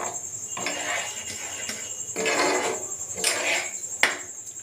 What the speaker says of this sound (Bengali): তো এখন আমি একটু তৈরি করে নিচ্ছি ভেজিটেবল স্যুপ।